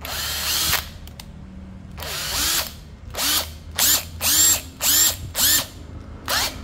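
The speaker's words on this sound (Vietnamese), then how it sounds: "cây khoan hai chức năng, cây Makita hai chức năng, 458D ha, 458D." A Makita 458D two-function cordless drill whirs in a series of short bursts, starting with a long run and then about seven quick, evenly spaced trigger pulls that rev up and wind down, loud and close.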